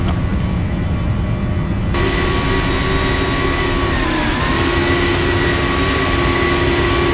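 A jet airliner takes off from runway 27 in a flight simulator, engines roaring loudly and steadily with a rising whine that swells after a couple of seconds and bends in pitch near rotation.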